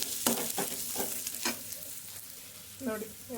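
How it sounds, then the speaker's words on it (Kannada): Spices for tempering sizzle and crackle in hot oil in a pan while making banana stem curry, with a few sharp pops and stirring scrapes over a steady close hiss. "ನೋಡಿ, ಎಲ್ಲ ಒಗ್ಗರಣೆ ಆಯಿತು."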